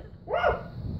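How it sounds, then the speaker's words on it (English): A single dog bark from Chop, the Rottweiler companion in the GTA 5 video game, sounding as one short, loud yelp-like woof over low in-car background rumble. "Be quiet, Chop"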